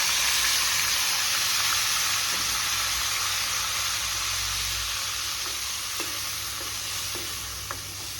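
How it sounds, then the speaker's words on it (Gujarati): Gravy hits hot oil seasoned with turmeric for a Kathiyawadi Gujarati vegetable curry and sizzles in a loud, steady hiss that slowly softens, with faint stirring scrapes near the end. "હવે આપણે જે ગ્રેવી કરી છે તેને આપણે તેમાં એડ કરી દઈએ"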